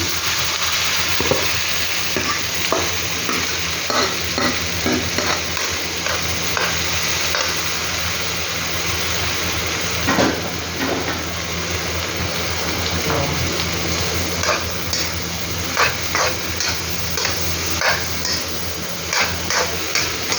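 Mung beans being sautéed and stirred in a pan for ginisang monggo with cabbage: a steady sizzle runs throughout, with scattered scraping knocks of a utensil against the pan, close and fairly loud, and no talk.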